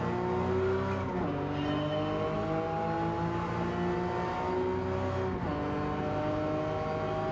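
A four-wheel-drive car in a racing video game, its engine droning loudly and steadily with rising revs that drop twice at gear shifts, plus tire noise, close and continuous.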